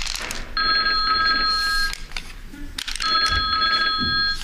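Indoors, a telephone gives two distinct electronic rings with a short pause between them. The rings are loud and close, with faint background noise and no speech.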